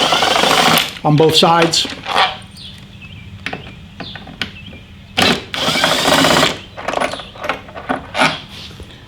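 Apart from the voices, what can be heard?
ratchet tool removing bolts from Harley Davidson fairing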